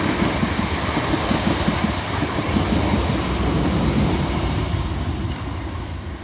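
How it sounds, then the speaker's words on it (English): A class 465 unit races fast through a suburban station on the Hayes line. The loud, dense rumble and rattle of the wheels is close and holds steady for several seconds, then eases slightly. "Passing fast under the head code 5 Yankee 11 from London Victoria through to Beckenham Junction is"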